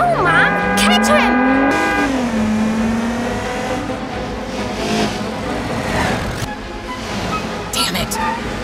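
A car engine revving and pulling away in the BeamNG.drive crash simulator, loud at first then fading under ambient noise, with a person talking over it.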